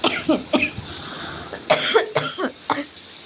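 A person with a lingering cold coughs about six times in short, harsh bursts, close up, in two quick clusters separated by a brief pause.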